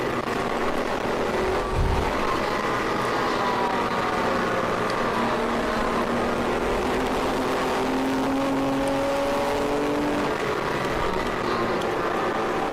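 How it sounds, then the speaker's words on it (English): Porsche Boxster race car at an endurance race, its engine note droning steadily with rising and falling pitch as it drives on, loud and continuous with other race cars audible around it. "Porsche Boxster."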